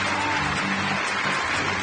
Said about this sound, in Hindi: बहुत सारी तालियों में।